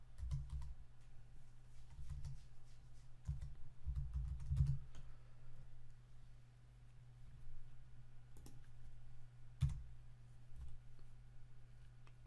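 Fingers type on a computer keyboard at a desk, quick irregular clusters of soft key clicks with short pauses, fairly close over a steady low hum, a few sharper taps standing out.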